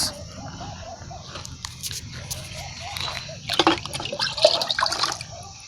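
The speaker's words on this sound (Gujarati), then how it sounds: "આ જો ઝાડવાનું પાણી પીવરાવું છું" Water splashing and trickling onto trees and soil, with a steady background hum and a louder pouring burst toward the end.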